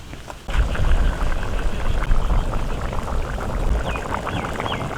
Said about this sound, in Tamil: இந்த இடத்துல உங்களுக்கு தேவைப்பட்ட தண்ணி ஊற்றி உப்பை சரி பார்த்துக்குங்க